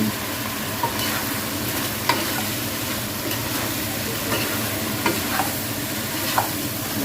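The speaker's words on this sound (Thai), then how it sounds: "ตอนนี้ก็ผัดปลาให้เข้ากับเครื่องสมุนไพรกันค่ะ" Fish stir-fried with Thai herbs in a pan for a spicy phat cha of pla khao, giving a steady close sizzle with scattered clinks and scrapes of the spatula, and no voices.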